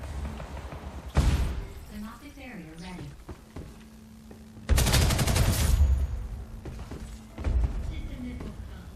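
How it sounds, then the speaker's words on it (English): Assault rifle fire in the online shooter Ghost in the Shell: Stand Alone Complex - First Assault Online comes as loud, close automatic bursts separated by quieter stretches with talk between them. "I actually do like the assault rifle"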